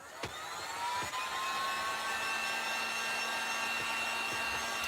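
A hair dryer blows steadily and close up to dry a Dollar Tree window cling Easter craft sign, a continuous airy whoosh with a faint hum that runs alone from start to finish.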